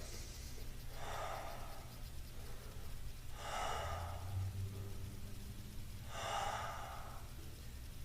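Three slow, deep breaths, spaced evenly a few seconds apart, held in a seated chair yoga pose during a senior exercise session. Each is a soft, close airy rush over a low steady background hum.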